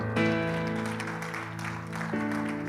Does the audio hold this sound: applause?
yes